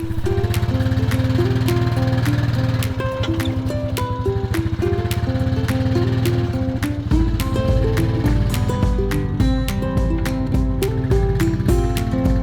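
A four-wheeler or tractor engine runs on a homestead while pulling a chicken coop forward, a loud, steady, close-up drone that shifts to a lower, heavier tone partway through and keeps going without talk.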